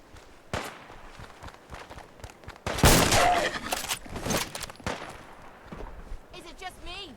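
Scattered AK rifle shots ring out in a Fallout 4 survival firefight, some near and sharp and some more distant. A heavier burst of fire comes midway, mixed with footsteps and combat noise, and a voice talks faintly underneath.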